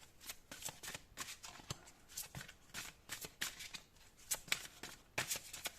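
Tarot cards shuffled and drawn for a reading, with close repeated crisp riffles and snaps of card stock in uneven bursts and no talking.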